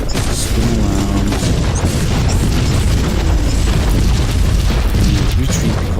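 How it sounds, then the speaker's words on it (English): Flash grenade explosion in Warhammer 40,000: Inquisitor, heard as a loud, heavy, continuous booming roar that fills all six seconds with dense low rumble and crackle, with no speech over it. "I'm gonna throw a flash grenade in there"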